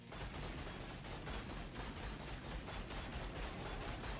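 Video game explosions and gunfire-like blasts from a chaotic battle, a dense, continuous roar of rapid bursts filling the whole moment with no talk.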